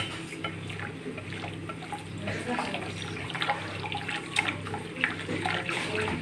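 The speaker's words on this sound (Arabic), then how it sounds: "وهننزل الميه بتاعت الطماطم بتاعتنا" Tomato water pours into a chicken wing marinade as a soft, continuous liquid splash and trickle in a kitchen, fairly quiet, with occasional light clinks and a voice in the background.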